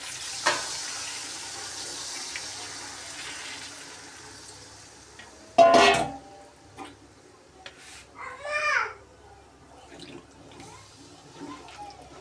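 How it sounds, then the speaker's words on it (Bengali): Water pours into a pot of cooking meat, giving a brief burst of splashing and sizzling amid quiet kitchen clatter, while someone speaks softly around it. "এখন জল দিয়ে দিব পরিমাণ মতো।"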